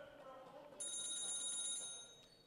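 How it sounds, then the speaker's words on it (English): A telephone rings with a bright electronic tone lasting about a second and a half, clear and fairly close, breaking into the sounds of an indoor basketball game with faint crowd noise underneath. "And the phone rings."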